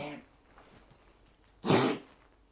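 One loud, sharp cough or throat-clearing burst up close after a quiet stretch with faint background noise, the sound of a person with an ongoing cough.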